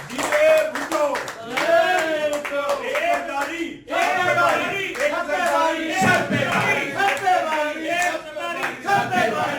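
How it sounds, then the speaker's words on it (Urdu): At a Pakistan Peoples Party victory celebration in Spain, a crowd loudly chants political slogans in unison while clapping along, voices close and energetic throughout with brief pauses between chants. "تقریب میں جالوں نے ایک زرداری سب پر بھاری اور جیے بھٹو کے نعرے بھی لگائے۔"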